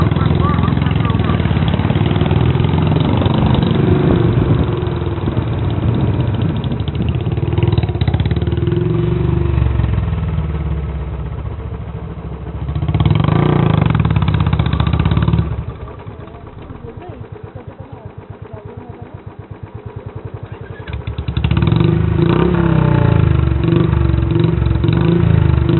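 A motorcycle labours uphill on the mountain road from Gangtok to Nathula, ridden on a half clutch, its engine droning steadily and close, with surges and a quieter dip midway before picking up again.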